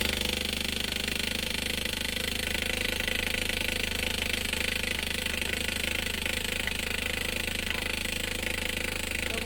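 A boat's inboard engine, just repaired and refitted with reused gaskets, runs steadily at close range, with a constant loud mechanical clatter and hum that holds from start to finish and no talk over it.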